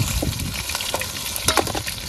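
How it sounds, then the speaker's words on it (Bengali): Fish frying in hot oil, a dense crackling sizzle with scraping stirs of a spatula against the pan, close and fairly loud with no voices. "নাও বাকি মাছগুলো ভেজে নাও। ভেজে নিই মাছগুলো।"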